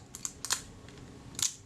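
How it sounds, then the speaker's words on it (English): The shutter of a Kodak Retinette type 022 camera under servicing is cocked and released, giving a few quiet, sharp mechanical clicks and snaps close by, including a brief double click near the end, with no talking. "Now I'm going to cock that and see if the shutter cocks and releases."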